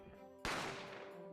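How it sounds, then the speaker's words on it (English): A single sharp gunshot sound effect from the courtroom adventure video game The Great Ace Attorney Chronicles, bursting in loudly over a quiet musical backdrop and leaving a sustained, decaying ring after the crack. "I didn't have time to think about where the sound of the gunshot had come from."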